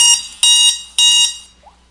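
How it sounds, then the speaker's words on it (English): A loud electronic alarm beeps in three long, evenly spaced pulses, each a bright harmonic tone, then cuts off, sounding in the background of a Minecraft episode. "That annoying alarm you just heard in the background is the episode alarm"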